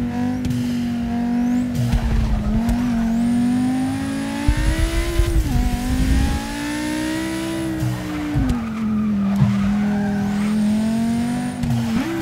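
A hatchback, either a Volkswagen R or an Audi RS3, is driven hard on a track, its engine droning and rising through the gears while tyres squeal in long sweeping slides, close and loud with no talk.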